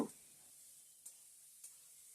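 Quiet sizzling in a frying pan with a few soft scraping strokes of stirring spices including cumin powder, faint and close, no voices.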